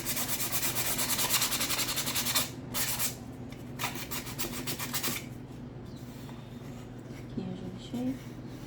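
A sanding block rubs by hand over an MDF board in quick rhythmic back-and-forth strokes, loud at first, then in shorter bursts with pauses and softer scraping.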